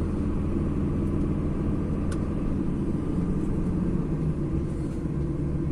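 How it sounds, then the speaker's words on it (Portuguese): A DAF XF 480 truck slows on its engine brake in the city of Getúlio Vargas, giving a steady, loud low rumble that holds throughout with no talk. "eu estou diminuindo a velocidade somente no freio motor"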